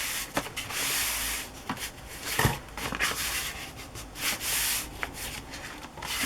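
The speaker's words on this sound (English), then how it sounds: "fold the flap down" A paper envelope flap made from wallpaper is folded down and creased by hand, giving soft rubbing and sliding paper sounds in short, close, quiet strokes with small crinkles and taps.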